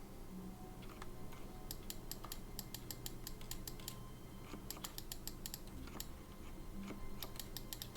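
Rapid, crisp clicks of a computer mouse tapping on things in The Stanley Parable: Ultra Deluxe, coming in quick bursts with short pauses over a quiet room hum.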